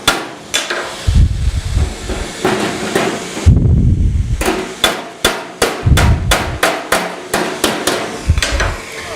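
A hammer strikes thin gauge sheet metal against a dolly during panel repair, a close, loud series of sharp metallic raps in irregular bursts, some rapid and evenly spaced, with brief pauses between groups.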